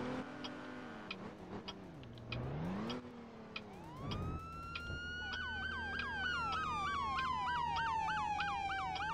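A police car siren in a video game roleplay server wails in long rising and falling sweeps, then switches to a rapid yelp, loud and close over an engine hum, with no talking.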